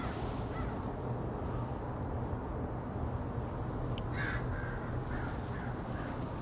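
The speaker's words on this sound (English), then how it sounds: "Crows abound." Crows caw several times outdoors on a cold autumn day, the calls fairly clear over a steady bed of wind and low rumble, with no talking.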